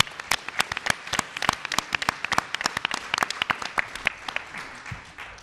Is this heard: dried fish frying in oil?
no